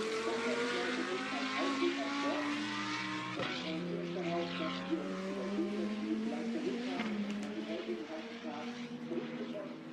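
A Fanatec GT2 Europe race car on a qualifying lap at Hockenheim, its engine note rising and falling with gear changes, loud and continuous throughout, with a commentator's voice running over it.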